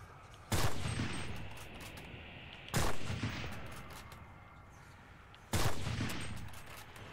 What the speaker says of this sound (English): Here's someone shooting to my right.